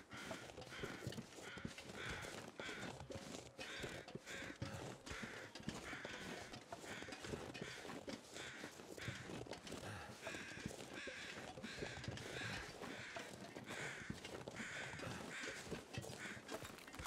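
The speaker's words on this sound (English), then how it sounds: "Whenever you hear crows, think feathers." Crows caw repeatedly in the survival game The Long Dark, harsh calls recurring throughout a long stretch of faint, noisy outdoor ambience with no talk.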